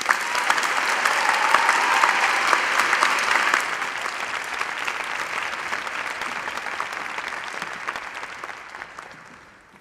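A large audience applauds graduates at a university graduation ceremony. The sustained, dense clapping peaks early, stays steady, then gradually fades out over about ten seconds.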